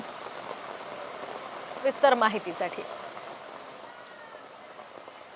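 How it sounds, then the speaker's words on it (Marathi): Heavy monsoon rain pours over waterlogged streets in Sion, Mumbai, a constant faint hiss of water, interrupted briefly by a short burst of voices midway. "मुंबईमध्ये सध्या सर्वत्र मुसळधार पाऊस सुरू आहे"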